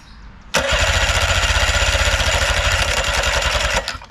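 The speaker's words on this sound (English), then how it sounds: "I'm gonna go jump the starter again and see what we got" An outboard motor's electric starter cranks it over for a compression test, a loud, close, steady rhythmic churning that lasts about three seconds and then stops, with no voices.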